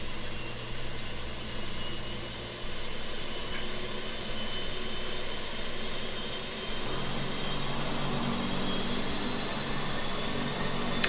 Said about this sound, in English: that's our APU starting